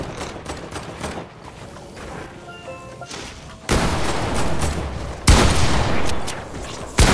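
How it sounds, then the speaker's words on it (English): Cannon fire in the video game Fortnite, heavy booming blasts landing in bursts with a couple of loud broadband hits in the later half over continuous game noise. "Cannon's taking damage. Every time I fire it, it takes damage."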